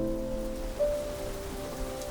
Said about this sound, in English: Rain falls.